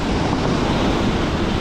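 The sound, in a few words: stormy sea waves in Crimea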